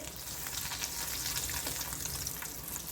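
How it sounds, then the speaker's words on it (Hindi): Chicken shahi cheese rolls frying in a pan of oil, a steady close crackle and hiss of bubbling fat with no pauses and no talking. "इसी तरह से हम बाकी के भी फ्राई कर लेंगे।"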